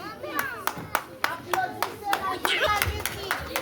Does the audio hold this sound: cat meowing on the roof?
no